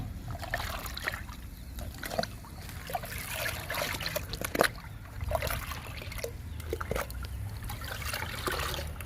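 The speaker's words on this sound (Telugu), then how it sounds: "టమాటో మొక్కల దగ్గర నుంచి స్టార్ట్ చేస్తున్నానండి లిక్విడ్ ఇవ్వడం" Liquid fertilizer trickles and splashes onto tomato plants in a garden, an irregular series of soft pours and drips heard up close at moderate level.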